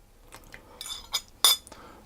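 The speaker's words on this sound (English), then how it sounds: "And then I'm just going to stir that around until it all comes together into a paste." Spoon clinking against a bowl while lemon juice is stirred into icing sugar, several light, irregular taps and scrapes, close and fairly quiet, with a sharper clink near the middle.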